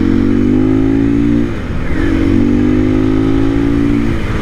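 A 2024 KTM EXC-F 500 Six Days dual sport motorcycle engine revs steadily and loudly up close, then briefly dips as a gear shift happens and climbs back into a sustained drone.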